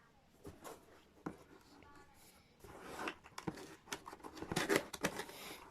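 Packaging for an iends adjustable laptop cooling pad being opened, with close rustling, crinkling and tearing bursts that grow busier and louder toward the end, under occasional quiet talk.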